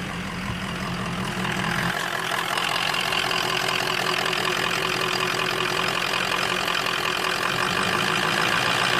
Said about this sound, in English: or does the idle speed up?